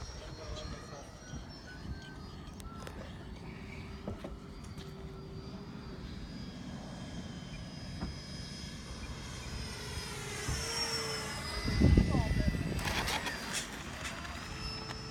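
A Freewing 90mm F-4 radio-controlled jet comes in to land at a flying field, its turbine whine sweeping in pitch and swelling to a loud near pass, with people talking throughout.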